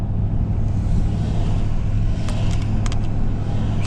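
An old pickup truck heading to a scrap yard, its engine holding a steady low rumble with constant road noise and a few faint rattles near the end, loud and close with no talk.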